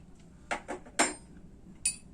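A spoon clinks against a container while yeast is stirred in, with four short metallic taps spaced irregularly over a quiet background.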